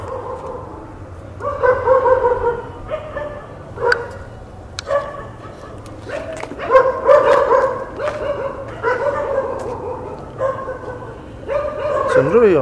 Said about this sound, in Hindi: कुत्तों के बीच में कोई और आवाज भी है